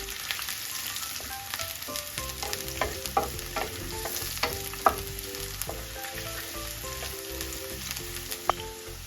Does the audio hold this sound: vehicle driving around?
no